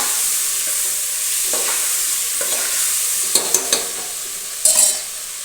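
Spinach, potato and tomato curry is stirred in a sizzling pan, a loud steady fry with a few sharp spoon scrapes and clinks near the end.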